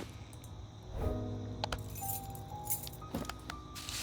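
Keys jangle in a hidden-object adventure game, a light metallic clinking and rattling that comes in a few brief bursts over a continuous low ambient hum.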